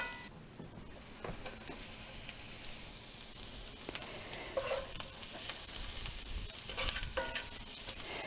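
Onions and garlic frying in a pan, a soft steady sizzle with faint hiss, quiet and continuous, with occasional light stirring scrapes.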